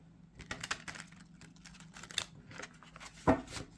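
Stiff tarot cards riffle and flick in quick, papery bursts, with soft shuffling taps and one sharp slap near the end, close and fairly quiet.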